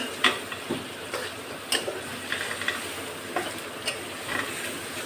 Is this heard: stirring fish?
yes